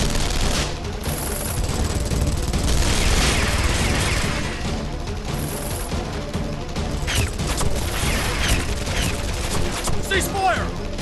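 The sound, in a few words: gunfire from soldiers in Guilty Gear -STRIVE- video game cutscene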